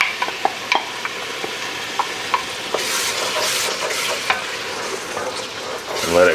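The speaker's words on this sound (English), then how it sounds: "Get it stirred up quick." Tomato puree being stirred in a hot pot of vodka sauce, a spoon scraping and clicking against the metal over a steady sizzle, with a louder frying hiss swelling midway, close and without speech.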